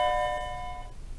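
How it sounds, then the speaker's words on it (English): An electronic doorbell rings with bright sustained chime tones that hold for nearly a second and then cut off, leaving quiet room noise. "I hate these bells. They interrupt my video every single day."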